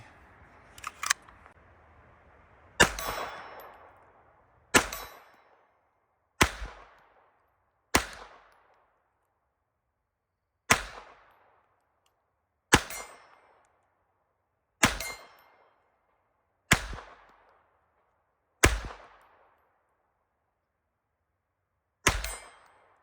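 A compensated Hi Point pistol fires about ten single shots at targets, each a sharp crack with a short ring-off, spaced a second or two apart on a quiet range.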